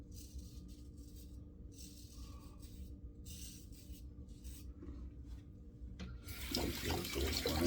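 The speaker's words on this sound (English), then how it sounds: "Rinsing off instead" A disposable razor is rinsed under a running tap. Faint splashes and water bursts come first, then a stronger steady stream of running water near the end.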